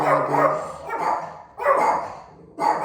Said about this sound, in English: that's the doggy.